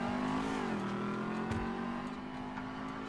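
A sports car's engine in GTA V hums steadily with a low drone when entering the vehicle, the pitch dipping slightly then holding even, continuous and without talk.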